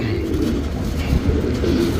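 A male pigeon sold as a fancier's bird coos in low, soft, rolling notes close by, a short steady murmur with no talk over it.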